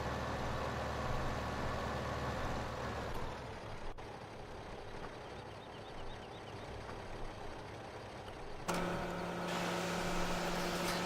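Small tractor engine in Farming Simulator 15 on the North-Brabant map, hauling a load too heavy for it: a steady, loud mechanical drone that runs throughout and shifts to a brighter, harder-working tone near the end, with no talking.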